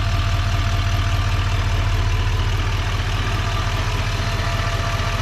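A 2020 GMC Sierra 3500 Denali's 6.6 liter Duramax turbodiesel idles nearby with a steady, even low rumble and a faint clatter, continuous and alone.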